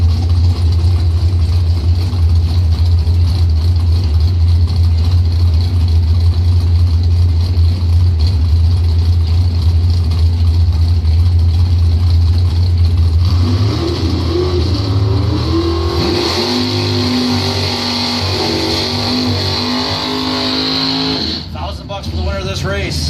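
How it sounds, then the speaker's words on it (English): A 1968 Chevrolet Camaro drag racing car idles loudly at the start line of a bracket racing event with a deep, steady rumble, then revs up into rising engine tones near the end, with an announcer talking over it. "68 Camaro, Steve Micas Racing, Thorolby Automotive"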